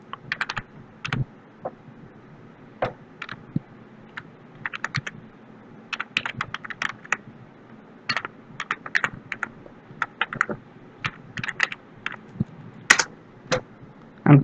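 Keys on a computer keyboard are typed in quick irregular bursts with short pauses, close and fairly clear over a faint low hum, with no voices.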